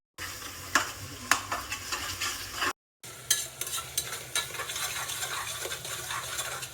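Oil frying in a brand-new pressure cooker while a spoon stirs, a close, busy sizzle punctuated by sharp metallic scrapes and clinks against the pot, with a brief gap partway through.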